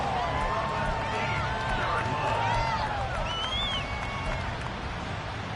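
A steady, fairly distant crowd roar from an American football stadium during a third-and-goal play, broad and continuous with faint whistles and shouts rising out of it and indistinct voices mixed in.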